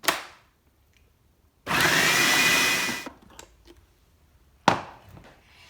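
A food processor blitzes chillies for chilli jam in a kitchen, a loud whirring burst of about a second and a half, bracketed by sharp clunks of the lid and bowl and brief handling noises.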